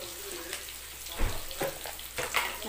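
Onions frying in a pan with fresh curry leaves, a low steady sizzle with soft stirring clicks and a few brief scrapes, close and fairly quiet.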